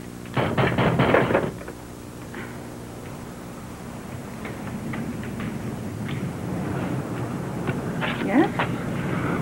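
Knocking on a door in a Malibu house, a quick burst of several loud raps near the start and a softer cluster later, heard over steady background noise and room tone.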